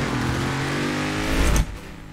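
An Audi in Forza Horizon 4, tuned for off-road S1-class racing, drives with a steady engine drone that swells in a short rev before easing off.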